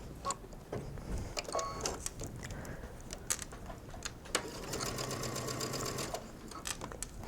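A sewing machine stitches an elastic hem on mesh sleeves, a quiet, steady mechanical whir with rapid ticking that runs in bursts and briefly pauses before continuing.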